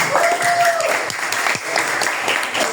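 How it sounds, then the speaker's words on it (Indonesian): Applause from a classroom of students, clapping for classmates who scored 100 on an exercise, a steady dense patter lasting the whole moment with a brief whistle-like tone early on. "Bapak kasih aplaus untuk yang dapat 100"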